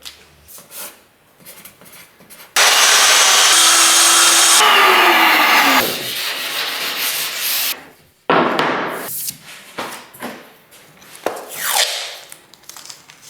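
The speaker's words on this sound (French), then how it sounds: "Découpe d'abord cette pièce correctement." A kitchen back panel piece being cut to fit under a range hood, a loud, continuous power-tool cutting roar for several seconds, followed by rougher, intermittent rasping and scraping bursts, with no talking.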